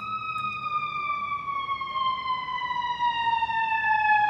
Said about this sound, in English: You can hear that beautiful sound of the siren right now.